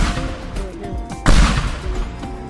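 In the game Capuchin, a gunshot strikes an explosive and produces one sharp, loud blast midway that stands out against quieter background noise.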